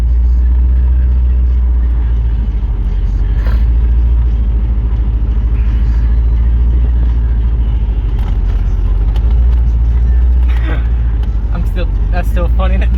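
A 2006 Chevy Colorado with a 4.8 LS swap driving over rough off-road terrain, its engine a loud steady rumble throughout, with people talking inside the cab over it.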